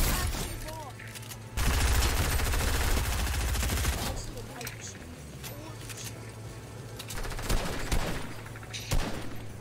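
Fortnite sniper fire in the video game, loud sharp gunshot bursts with a dense volley around the middle, sounding close among ongoing game noise and rumble, with faint voices underneath.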